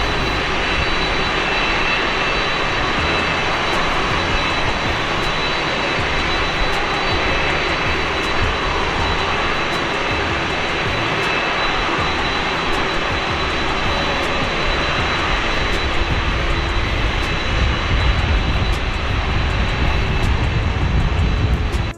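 An airplane engine roaring steadily from inside a large heavy airliner, a loud continuous drone with a constant hum and no talk.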